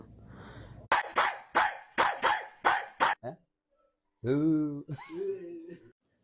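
A person imitates a dog, giving six sharp, evenly spaced barks, then after a brief pause lets out a longer whining howl and a shorter yelp.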